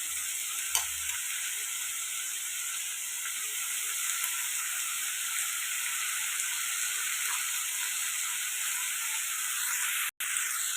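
Soaked chana dal dropped into potato pieces frying in oil give a continuous, even sizzling hiss at moderate volume, with a faint clink near the start and a brief dropout near the end.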